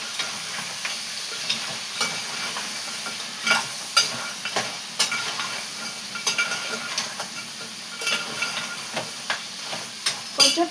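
Tomatoes frying in a hot pan with a hissing sizzle and steam, punctuated by regular stirring scrapes and spoon taps, heard up close and uninterrupted by voices.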